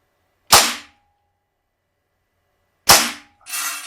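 A G&G Piranha SL gas blowback airsoft pistol fired outdoors in a field test: two sharp, loud close cracks a couple of seconds apart, the second followed by a brief hiss of gas.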